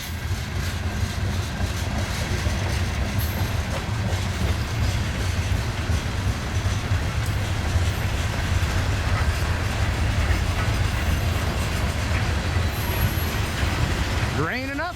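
CN grain train cars rolling past close by, a steady heavy rumble and rattle of wheels on rails, with someone talking over it.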